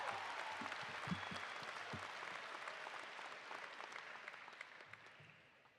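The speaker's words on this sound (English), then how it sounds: "How about another round of applause for your faculty speaker" Graduation ceremony audience applauding steadily in a large hall, a dense wash of clapping that holds for several seconds and slowly tapers off.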